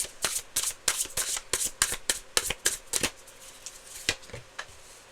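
Tarot cards are shuffled briskly in a rapid series of crisp riffling bursts, close up, then a few final slower flicks.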